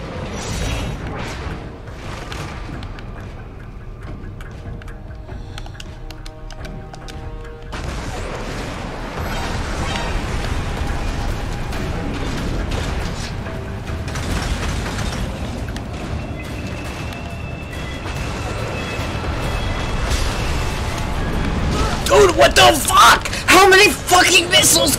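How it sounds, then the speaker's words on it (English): Homing missiles exploding in the Metal Gear Rising: Revengeance video game, dense booming blasts over a steady bed of game music and effects, with a person talking throughout and a louder burst of impacts near the end. "I shot them with like four homing missiles, not a single one of them is hurt"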